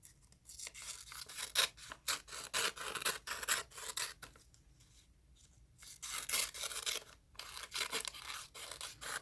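Scissors cutting paper lengthwise for an art project, close and quiet, a series of rasping snips and rubbing strokes in irregular bursts with brief pauses, no talking.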